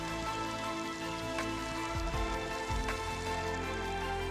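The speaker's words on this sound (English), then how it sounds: "just in time for a downpour." A downpour of rain at a hillside camp spot beside a big RV rig, a dense continuous hiss with a few louder splats and low rumbles, no talking.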